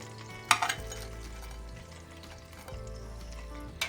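Chicken pieces fry in oil in a pan for Hungarian-style thighs, a steady low sizzle with a brief clatter of cookware near the start and another small knock at the end.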